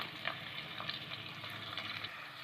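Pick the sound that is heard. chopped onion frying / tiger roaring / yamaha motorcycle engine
chopped onion frying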